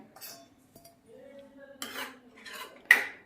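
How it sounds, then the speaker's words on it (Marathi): Homemade tomato sauce is stirred in a pot with a spoon, sounding as a few scrapes and clinks of utensil against metal with quiet gaps between, ending on a sharper clink. "चला आपण एकदा आपला सॉस परत एकदा हलवून घेऊया."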